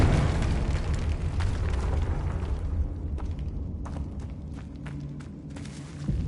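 Confringo explosion spell in Hogwarts Legacy, a loud rumbling blast that fills the first seconds and slowly fades into a lingering roar, with scattered crackles and thumps as it dies down.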